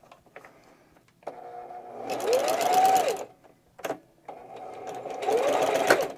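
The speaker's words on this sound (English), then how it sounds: "We're going to go over to the sewing machine and we're going to follow this gray line and put a stitch in here." Sewing machine stitching along a gray line on a saddle back band, with a presser foot holding the work: two bursts of steady mechanical whirring separated by a brief pause and a short rattle, close and clear.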